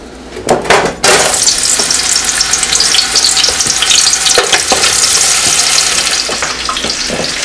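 An onion frying in hot oil, a loud continuous sizzle close by, with a few knocks of the stirring utensil against the pan at the start and occasional soft scrapes.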